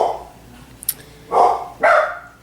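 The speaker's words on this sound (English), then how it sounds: "they're barking at nothing right now" A dog barks twice in close succession, sharp and near, after a brief quiet moment with a small yip.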